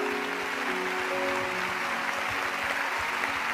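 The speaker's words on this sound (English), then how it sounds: "Give the Lord a big clap." A church congregation applauds, a dense, steady wash of many hands clapping at once that carries evenly from start to finish without any talk over it.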